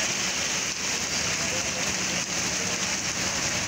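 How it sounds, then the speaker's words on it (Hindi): Heavy torrential rain pours down in Karachi as a steady, dense, unbroken hiss, loud and close throughout, with no pauses. "तेज़ हवाएं, काले बादल और मूसलाधार बारिशें।"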